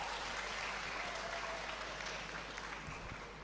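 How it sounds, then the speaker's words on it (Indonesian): Audience applause at a campus discussion event at IKIP Bojonegoro: a steady, dense patter of many hands clapping, moderately distant and fairly quiet, holding evenly for a few seconds. "Sebelumnya kita tepuk tangan untuk IKIP Bojonegoro."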